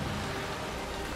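Rain falls steadily in A Plague Tale: Requiem, a soft, even hiss of drops on surfaces with no voices over it.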